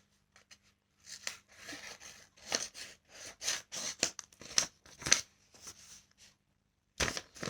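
Scissors snip along the sides of a paper square in a series of short, crisp cuts with brief pauses between, close and fairly quiet, with no talking.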